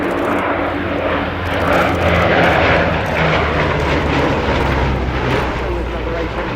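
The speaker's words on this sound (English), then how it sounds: "The aircraft will not land again. It's on its way back to Duxford, which is its base over in Cambridgeshire." A Bristol Blenheim flies past at an airshow with a steady, heavy piston-engine drone that stays loud throughout, while a commentator talks over it.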